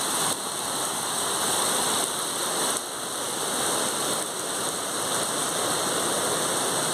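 Rain falling outdoors in Cork makes a steady, fairly soft hiss of drops on surfaces, continuous throughout with a faint high hum in the background.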